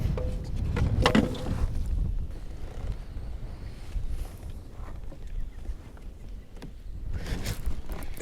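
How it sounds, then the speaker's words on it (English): Strong gusting wind buffets the microphone while fishing from a small boat on a lake, rumbling low and uneven, with occasional knocks against the hull. "It's so dang windy."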